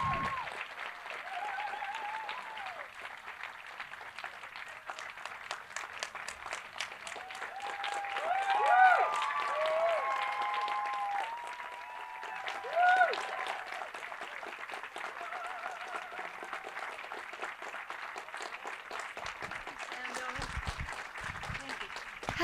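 A cinema audience claps warmly and steadily to welcome Julie Andrews, dense applause with a couple of brief swells and scattered cheers and voices throughout.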